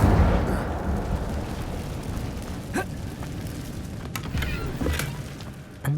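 Incendio fire spell cast in the video game Hogwarts Legacy, a loud whooshing burst of flame at the start that fades into a rumbling crackle, with a few sharp pops and clicks scattered after.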